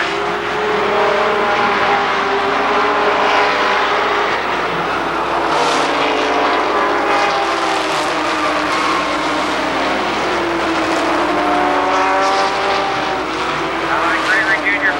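Race cars lap Columbus Motor Speedway, their engines roaring loudly and continuously with rising and falling pitch as they pass, while an announcer talks over the noise.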